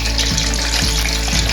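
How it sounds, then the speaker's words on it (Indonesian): Candlenut, shallots and spices sizzle in a hot pan for a spicy chicken-feet rica-rica dish, a loud continuous hiss with a few soft knocks at regular intervals. "Bumbu-bumbunya kita sangrai dulu ya, atau kita goreng sebentar ya supaya aromanya keluar"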